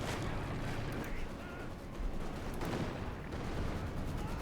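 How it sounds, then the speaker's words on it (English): Rocket artillery barrage in Company of Heroes 2 rumbles as a continuous, dense roar of launches and impacts, low and heavy, steady at a moderate level across the whole stretch. "Rockets unleashed."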